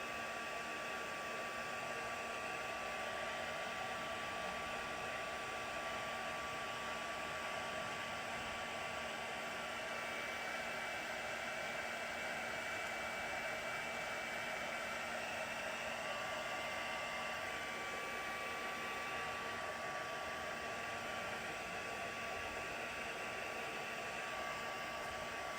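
A heat tool blows steadily over wet watercolour paper, a constant close whirring fan hiss with a faint motor hum that runs unbroken and even throughout.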